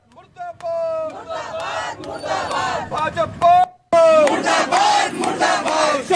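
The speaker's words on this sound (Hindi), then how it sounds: "इस दौरान प्रदर्शनकारियों ने धामी सरकार के खिलाफ जमकर नारेबाजी की है" Protesters chant slogans against the Dhami government in Uttarakhand, a loud crowd of voices shouting in rhythmic bursts with a brief pause before the chanting surges again, close and energetic.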